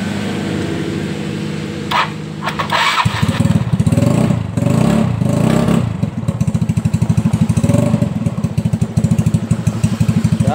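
A Yamaha Mio Soul scooter engine cranks on the starter and starts, then runs with a steady, rapid putter at close range, idling loudly and evenly.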